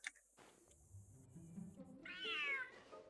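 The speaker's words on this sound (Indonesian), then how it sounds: "Kucing besar galak." A big fierce cat in a video game meows and caterwauls, with a short cry at the start and a loud, drawn-out wavering yowl near the end, heard alone over faint background noise.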